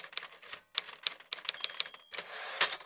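Keys tapped in quick, uneven bursts while a recipe title is typed by hand, the clicks close and crisp with a short pause midway and a brief rustle near the end.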